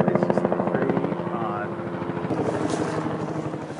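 A helicopter hovers close overhead during a tense encounter, its rotor thumping in a fast, loud, rhythmic pulse throughout while people talk over it.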